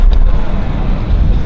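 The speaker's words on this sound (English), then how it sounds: "Can you listen to my car real quick?" A BMW E92 335i engine runs with a suspected vacuum leak, a loud, rough low-frequency rumble up close, buffeted by wind noise on the microphone.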